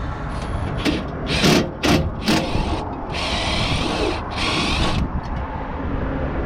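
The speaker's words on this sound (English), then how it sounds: "I'm going to use a drill and swedging bit." A power drill with a swedging bit whirs in short bursts, then runs in two longer stretches, its motor whining against metal tubing with grinding, rasping contact noise.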